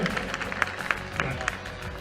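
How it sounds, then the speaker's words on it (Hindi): A theatre audience claps for two stage veterans at a cultural festival event, with sparse, separate claps rising over a murmuring crowd and a voice in the background. "एक बार जोरदार तालियां"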